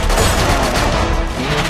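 Gunfire from a mobile shooting video game comes as a dense, loud barrage of rapid shots that rolls on continuously without pause.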